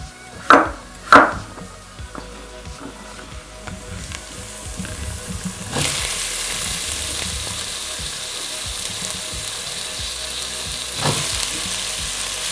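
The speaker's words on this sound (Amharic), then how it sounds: "ሽንኩርት ጋር ሲጠበስ ድንች ደስ ስለሚለኝ ነው" Potatoes cut into large pieces fry with onions in a pan, with a couple of sharp knocks at the start, then a steady sizzling that swells after a stir and continues evenly.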